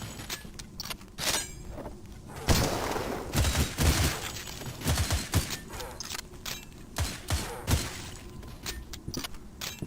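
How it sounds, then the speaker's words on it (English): Rocket launcher fire in the video game Cultic, heavy blasts in a burst of sharp impacts with scattered explosive cracks and rumbling debris, loud bursts clustered between quieter gaps. "Rocket launcher."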